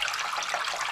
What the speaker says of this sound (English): Lots of drips.